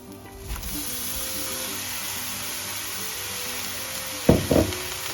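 Tofu hits a hot pan of toasted coconut with a loud burst of sizzling, after a steady frying hiss that runs throughout the clip.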